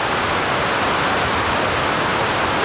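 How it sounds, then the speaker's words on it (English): Steady broadband hiss of a flowing mountain creek near Valemount, British Columbia, continuous and even; crickets and moths are present but no distinct chirps stand out. "the nice white noise of, you know, the crickets and moths and the creek,"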